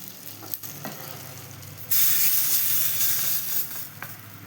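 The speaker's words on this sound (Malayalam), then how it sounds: "അപ്പം എല്ലാം കൂടി നമുക്കൊന്ന് ഇളക്കി റെഡിയാക്കാം" Jackfruit seed stir-fry in coconut oil with mustard seeds: a few faint knocks, then a loud, steady hiss and sizzle from the hot pan that lasts to the end, close by, with some stirring.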